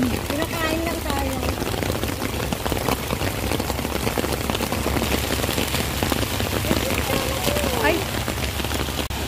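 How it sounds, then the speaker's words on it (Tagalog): Heavy rain pours steadily in a dense, continuous hiss, with people talking, laughing and calling out close by throughout. "Ang lakas po ng ulan."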